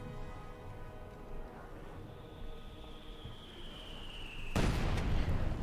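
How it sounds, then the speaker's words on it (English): Company of Heroes 2 battle sounds, a steady low rumble of distant mortar fire and gunfire, ending in one loud, sharp explosion near the close. "more mortar fire there"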